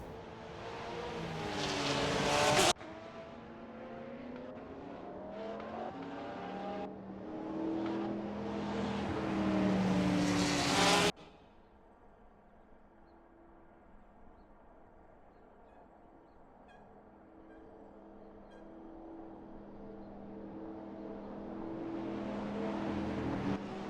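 Race cars run their formation lap at the Red Bull Ring: a loud, steady engine drone with a rising pass-by cuts off abruptly, and a quieter, distant hum with a thin whine follows.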